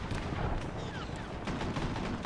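In the video game Arma, flak cannons and other heavy weapons fire in a dense, continuous barrage of booming shots with rapid cracks layered over a loud rumbling battle din.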